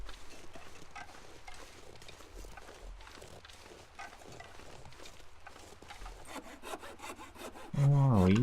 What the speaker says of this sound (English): Oh, are we using the good hacksaw to do that?